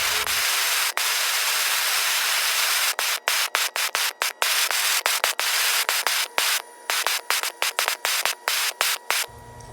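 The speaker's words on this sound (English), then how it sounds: "burn the wood there and then sand it over again" Sanding the wood handle of a copper Damascus kris dagger, a steady broadband rasping scrape with brief pauses, growing choppy and interrupted in the second half as strokes stop and start, close and loud with no talk.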